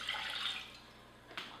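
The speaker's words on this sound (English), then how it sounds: "Put the water in" One cup of water poured into a pot for cranberry sauce, a brief hissing splash that fades, then a small drip.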